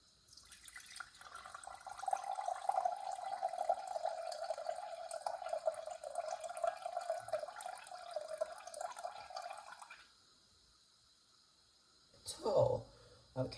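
Liquid conditioner ingredients pour steadily into a container on a scale, a continuous trickling splash lasting several seconds before stopping, followed by a brief clatter.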